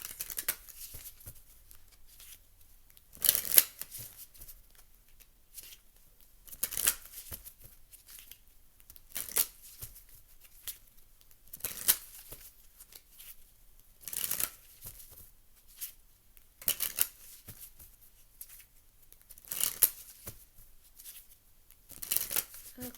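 A deck of Lenormand Fairy Tale cards is shuffled in repeated short riffling bursts spaced a few seconds apart, soft and close, with near silence between them.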